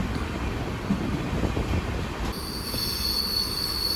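A train rolls past on a curving Western Ghats mountain route in India, with a continuous rumbling clatter, and a high, sustained wheel squeal cuts in partway through.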